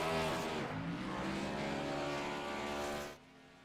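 Sim race car in a GNS Series stock car league at Homestead, engine roaring loud and steady with harmonic whine as it runs down the front straightaway, then cutting off abruptly near the end.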